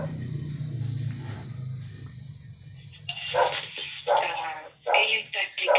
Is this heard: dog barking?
yes